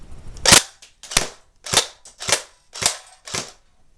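A Crosman Pulse R76 airsoft gun fires on semi-auto: six sharp, loud, snappy shots at a steady rhythm of about one every half second, close by with no voices.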